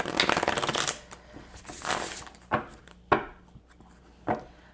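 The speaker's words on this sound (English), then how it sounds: "Let me shuffle these a few times." A deck of tarot cards is shuffled by hand up close: a dense riffling burst, a softer rustle, then a few sharp taps as the deck is squared on a surface, with no talk.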